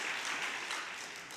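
Audience applause after a lecture in a Korean-language hall, a dense wash of many hands clapping steadily throughout, fairly faint and slightly tapering, with no voices.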